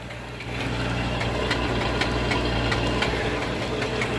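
A 1974 Ford F-250 Ranger SuperCab with a 4.9 engine idles after a cold start in a snowstorm, a steady, close, lumpy rumble with a faint rhythmic ticking running through it.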